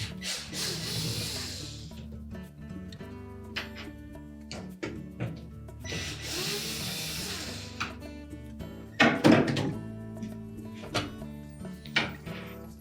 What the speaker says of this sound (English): Just while holding the wheel assembly from the inside, we'll remove those 2 screws.